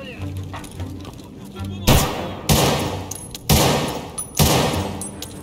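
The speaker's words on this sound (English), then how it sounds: "That sounds like a pistol." Pistol fire in the Punisher video game booms out in four loud, separate shots spaced roughly a second apart, each with a short decaying tail, while players talk over the action.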